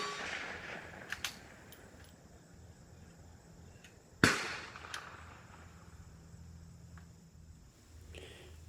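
A single sharp gunshot from a Savage 93 BSEV bolt-action rifle at an outdoor practice range, loud and abrupt against faint background hiss, with a few small clicks before it.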